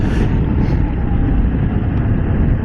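A BMW F 900 GS Adventure motorcycle engine holds a steady, close, low rumble under heavy wind buffeting, with no clear rev spikes and no talking.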